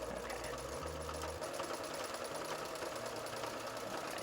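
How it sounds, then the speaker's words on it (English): A sewing machine stitches through fabric for a coat with a steady, fast mechanical whir and rhythmic needle knocking, close and continuous, with brief changes in pace and no talking. "Alright, so we're just gonna sew this up."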